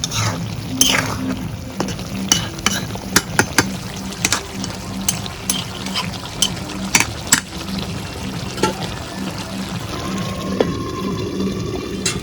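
Pointed gourd frying and being stirred in a pan on a clay stove for a tilapia fish curry: a steady close sizzle with scattered sharp scraping clicks from the stirring.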